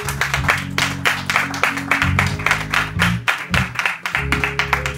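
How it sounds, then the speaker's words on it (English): A church congregation gives a hand clap of praise, rhythmic loud clapping over sustained organ or keyboard chords, close and continuous throughout. "Give the Lord a hand clap of praise."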